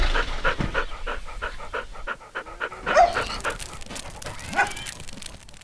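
A dog in the farming game Agricultural Simulator 2013 pants in quick rhythmic breaths, then gives a few whimpers and yips, fairly close and clear, with a voice speaking briefly under it.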